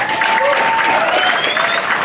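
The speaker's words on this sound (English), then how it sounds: "So give our community a big round of applause, seniors" A crowd at a high school graduation ceremony claps in a steady round of applause, with a voice faintly carrying through it.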